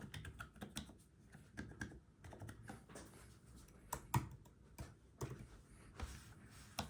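Typing on a ZSA Voyager split keyboard, a steady patter of quiet, close keystrokes with irregular rhythm and a few sharper, louder key hits scattered throughout.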